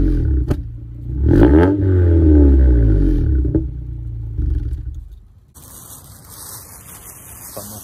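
A 1990 Acura Integra DA9 with a GReddy SP2 exhaust gives a quick, loud rev that climbs and then falls back over a few seconds, with sharp clicks before it. A quieter rumble and hiss follow as it drops toward idle.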